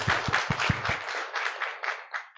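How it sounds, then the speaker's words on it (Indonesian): A party meeting crowd breaks into applause, starting with a few strong rhythmic claps and then tapering into lighter, thinning clapping that fades toward the end. "Tepuk tangan untuk semuanya."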